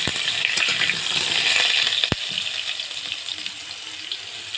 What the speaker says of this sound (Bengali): কড়া গরম হয়ে গেছে, আলুগুলো দিয়ে দেবো। আলুগুলো ভেজে নিতে হবে।